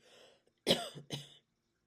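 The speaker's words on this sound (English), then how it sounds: "I have to cough." A faint murmur, then two sharp coughs in quick succession, close and clear, followed by silence.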